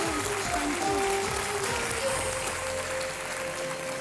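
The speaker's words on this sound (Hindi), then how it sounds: "तालियां बजती रहे देवी और सज्जनों।" Sustained applause from a studio audience on the television quiz show Kaun Banega Crorepati, a steady, fairly loud wash of clapping that holds throughout with a faint voice beneath.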